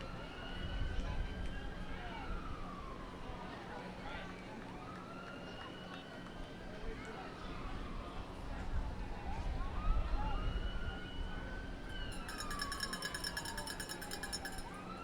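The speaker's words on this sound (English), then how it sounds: "Some sirens going on behind the ballpark." A fire rescue truck's siren wails up and down in long sweeping cycles from behind a ballpark during a baseball game, fairly distant and steady under the crowd's ambient noise.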